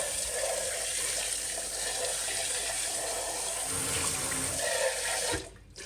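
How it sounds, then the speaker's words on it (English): Steady cold water pours from a tap for several seconds to rinse a container, a broad rushing splash, then cuts off abruptly near the end. "I'm going to rinse out the container that we had them in."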